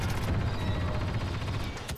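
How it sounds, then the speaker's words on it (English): Blaster fire in Star Wars Battlefront 2 on Geonosis: a rapid, even stream of shots over a low battlefield rumble for two seconds, with a sharper burst at the end. "Laying down covering fire."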